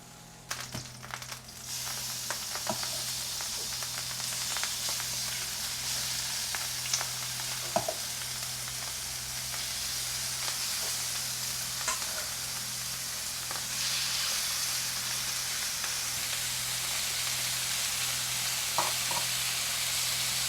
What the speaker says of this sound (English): Time to get it seared. Oil on pan.